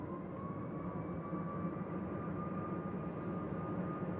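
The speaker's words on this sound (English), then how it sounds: "Ryanair 1155 to Berlin, departing now 9H VUM." Ryanair jet departing Manchester Airport for Berlin, a faint, distant steady engine drone with a thin sustained whine, heard alone without voices.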